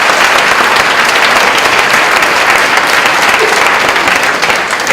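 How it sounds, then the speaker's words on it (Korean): Sustained, loud applause from a seminar audience at a Korean missions conference, a dense continuous wash of many hands clapping at once, steady from start to finish with no voices on top. "박수 한번 보내주시면 감사합니다"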